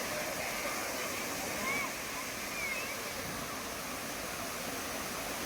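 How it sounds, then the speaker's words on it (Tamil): A two-tiered waterfall at Kovai Kutralam, a cold, clear-water bathing falls near the Siruvani river, gives a steady, full, unbroken hiss of falling water that runs close and even the whole time. "நான் சொன்ன மாதிரி இரண்டு அடுக்காக இங்கே வந்து நீர்வீழ்ச்சி இருக்குதுங்க"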